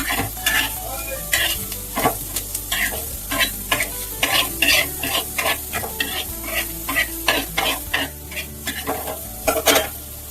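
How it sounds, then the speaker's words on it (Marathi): Three medium onions roast in a pan for mutton rassa, with rhythmic scraping stirs of a spoon over a constant sizzle, close and fairly loud with no speech. "इथं 3 मीडियम साईजचे कांदा घेतले, ते भाजून घ्यायचे आपल्याला."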